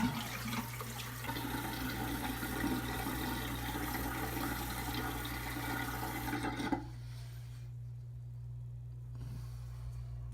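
Water runs steadily from a tap for rinsing, a continuous splashing flow over a low hum that cuts off abruptly partway through, leaving quiet room tone.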